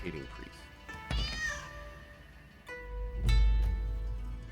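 A cat in the video game Rise of the Ronin gives a couple of drawn-out, pitched meows at close range, separated by a pause, with someone talking over the game sound.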